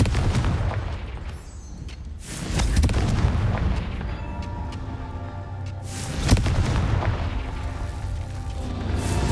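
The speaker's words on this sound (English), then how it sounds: "Confringo!" Confringo fire spell blasts in the Hogwarts Legacy video game, a series of loud booming explosions with rumbling tails, the strongest bursts at the start, near the two-and-a-half-second mark and around six seconds.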